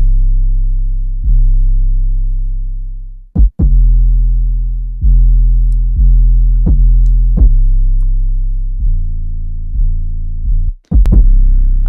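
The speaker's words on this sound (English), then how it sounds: "Here's what the 808 and the kick sound like." A deep 808 bass line with a punchy kick drum treated with stereo delay plays alone, sustained booming bass notes restarting in a steady pattern with sharp kick hits and echoing repeats between them.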